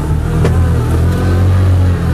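CF Moto UForce 1000 ATV engine revving steadily as it climbs a small hill off-road, a sustained, loud mid-pitched drone with slight rises in throttle throughout.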